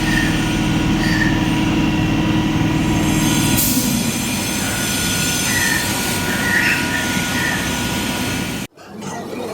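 An EMU electric train in motion, heard from inside the traction motor coach: a loud, steady rumble of motor and wheels on rails, with faint squeals, then an abrupt drop near the end before the rumble resumes.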